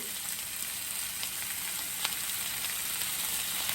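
A thin ribeye steak sizzles steadily on a super hot plate, a dense, even hiss with a few faint pops, fairly close and with no talking.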